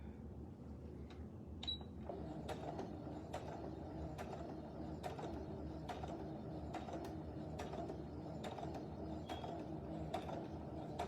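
Domestic sewing machine stitching elastic onto a fabric face mask, a steady close mechanical whirring with repeated sharp ticking clicks from the needle mechanism, running continuously without talk.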